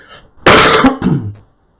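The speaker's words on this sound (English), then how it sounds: "I'm trying to get over a bad cough" A single loud, harsh cough close to the microphone, breaking into a rougher second burst before stopping abruptly.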